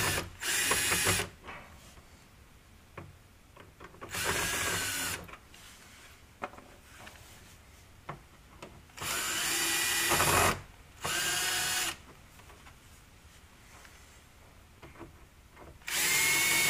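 A power drill backs screws out of the stereo panel in a Subaru Forester, running in about six short, loud whirring bursts separated by quiet pauses with small mechanical clicks.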